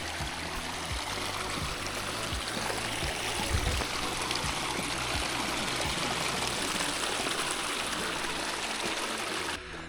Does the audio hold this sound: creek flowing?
yes